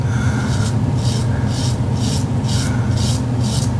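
Razor strokes scrape across a face during a shave, a steady series of about seven close rhythmic rasping passes over a constant low hum.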